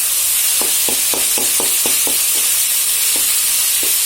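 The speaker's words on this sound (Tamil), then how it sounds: "அது கூடவே கேரட்டும் சேர்த்து எல்லாத்தையும் நல்லா வதக்கிக்கலாம்" Beans and carrots sauté in a pan under a steady loud sizzle, with a spatula tapping and scraping in a quick run of about a dozen evenly spaced strokes, close and continuous with no voices.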